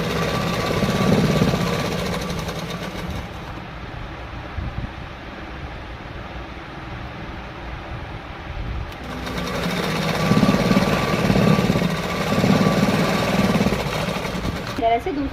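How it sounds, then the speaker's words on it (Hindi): A sewing machine runs in two bursts while stitching folded salwar fabric, with a steady mechanical whir and a quieter pause between them; someone talks at points over it. "फिर फैब्रिक के अंदर इसे फोल्ड करके सिलाई लगा दूँगी"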